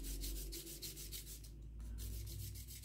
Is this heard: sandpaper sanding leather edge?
yes